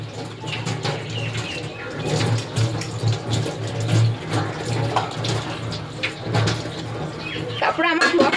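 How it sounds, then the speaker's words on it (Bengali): Kitchen items being washed under a running tap, a steady splashing water stream with clinks and handling noises throughout, while someone talks over it. "তো এগুলো ধুয়ে নিচ্ছি।"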